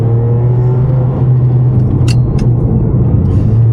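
Ferrari 550 Maranello on a rough road, a steady low engine drone and road rumble heard from inside the cabin, with a couple of brief rattles or knocks partway through.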